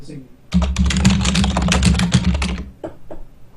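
Rapid, close keystrokes on a computer keyboard clatter for about two seconds in a dense burst, then a couple of isolated taps follow; a voice speaks briefly near the end.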